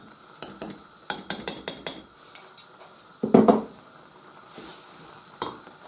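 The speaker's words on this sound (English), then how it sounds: "There's the garlic in my trusty pestle and mortar, so that can go in now" Crushed garlic scraped out of a pestle and mortar into a pan for a spicy dish: a run of sharp, close taps and scrapes, then a louder rasping burst and a couple of final knocks.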